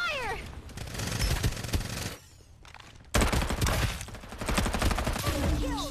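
Bursts of automatic gunfire fill a Farlight 84 battle, dense and loud with a brief lull mid-way before firing resumes hard, layered with in-game sound effects.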